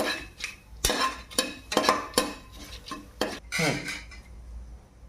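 Whole spices such as peppercorns, cardamom and stone flower fry in a pot for vegetable pulao, with several loud metal clanks of a spoon stirring against the pot over a soft sizzle, fading at the end.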